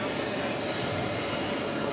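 A Copa Airlines jet airliner in special livery takes off from runway 13R at JFK airport. It comes through as a steady, distant broadband roar with a faint high whine, continuous and even for the whole stretch.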